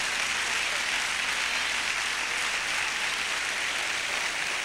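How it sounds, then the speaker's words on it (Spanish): Steady wash of applause from a congregation at a Catholic doctrine gathering, even and continuous with no breaks, heard at a moderate distance with little talk over it. "si le va a dar un aplauso al Señor, déselo"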